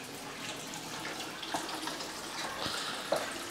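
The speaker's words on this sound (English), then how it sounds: "now we're just reaching out to the return lines, and the sump is emptying out" Water drains and splashes steadily from an aquarium sump through return lines driven by a Deltec E Flow pump, a continuous watery rush with a few small drips and gurgles.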